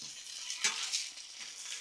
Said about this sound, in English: Stir up our sauce, which is boiling, bubbling hot